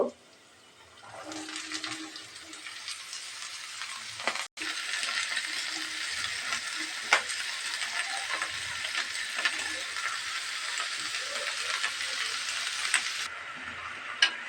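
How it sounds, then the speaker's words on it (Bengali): Onion stalks hit a hot pan of fried onion and chili, bursting into a steady crackling sizzle after a quiet start, with a few clinks of utensils along the way. "এখন আমি এই যে পেঁয়াজ কলিগুলো দিয়ে দেব"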